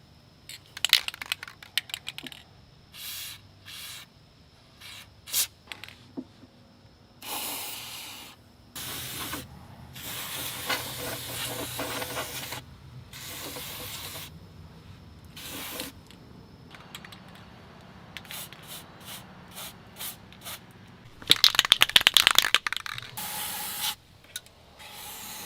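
Bursts of spray from a can of wet black rust inhibitor applied to the rusty cab area of a Ford F-150, close and hissing in repeated short and long blasts, separated by quiet gaps and ending in a loud sustained spray.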